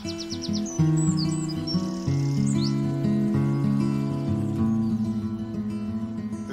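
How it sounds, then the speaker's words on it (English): A bird calls with a quick series of high chirps and whistled notes, heard clearly over a steady, prominent harmonic drone in the background. "That was a bird."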